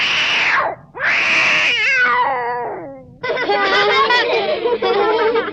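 A singing voice imitates a kitten meowing in a Hindi song, with loud, close, drawn-out mews followed by warbling, wavering cries.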